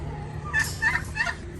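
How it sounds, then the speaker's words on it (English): Ducks holler three times in quick succession, loud and close, with harsh nasal honking calls over low background rumble. "I know the ducks are hollering"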